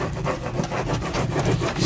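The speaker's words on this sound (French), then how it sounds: "je vais encore gratter le texte" Steady scraping and rubbing as transfer lettering is scratched off a wall, a close, loud, rhythmic rasping in repeated strokes.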